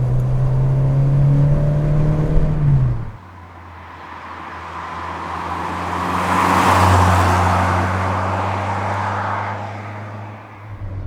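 Old-school twin-cam car engine under way: a steady drone drops sharply as the revs fall, then a rising whooshing surge builds and fades while the engine keeps humming, with no voices.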